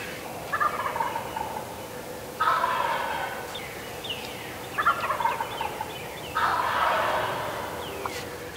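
Wild turkeys gobble in repeated rattling bursts, several birds calling back and forth at a moderate distance over a steady outdoor hiss in Illinois on turkey season opening day.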